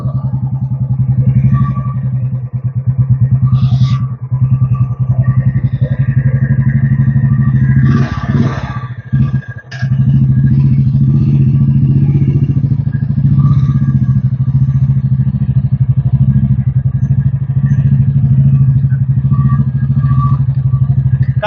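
A Royal Enfield Bullet motorcycle rides along with its steady, loud thumping single-cylinder beat and some rattling clatter, briefly dipping midway before carrying on evenly.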